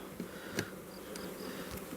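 Honeybees buzz steadily around a nucleus hive during an inspection, a soft continuous drone with a few brief louder passes close by.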